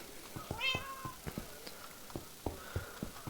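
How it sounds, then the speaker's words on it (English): Minecraft cat meows several times, short and close, over a series of sharp clicks and taps from game actions. "The meow noises kind of get old."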